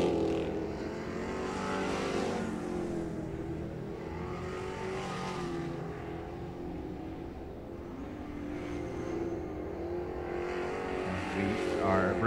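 Race cars lapping an oval at Cornwall Motor Speedway during qualifying, a steady distant engine drone rising and falling throughout, with an announcer talking over it.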